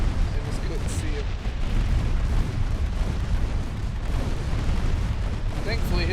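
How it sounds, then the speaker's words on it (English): Torpedo explosions and fire tear through a warship in a night naval battle in the game Ultimate Admiral Dreadnoughts, a dense continuous rumble of booming blasts with a few sharper pops near the end. "his torpedoes are exploding inside of his ship, causing fire and flooding"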